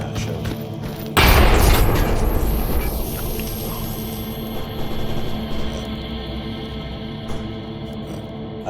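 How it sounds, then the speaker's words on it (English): Grenade exploding in a video game: a sudden, loud, deep boom about a second in, with a long rumbling decay and echo over steady game background noise that continues after. "I guess he threw the grenade there."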